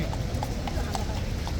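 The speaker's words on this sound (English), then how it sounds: "the horse just started galloping along the road" Horse hooves clip-clop on a road in a steady, even rhythm of sharp knocks over a constant rumble of street noise.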